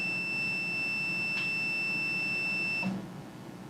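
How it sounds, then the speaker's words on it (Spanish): A multimeter in continuity mode, probes touching a wire, sounds a continuous high-pitched tone that stays steady for almost three seconds and then cuts off sharply, leaving quiet background noise. "Al escuchar ese pitido, nos daremos cuenta de que sí hay continuidad"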